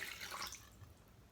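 Warm water poured into a bowl holding sugar for bagel dough, a brief splashing pour that fades into a quiet trickle.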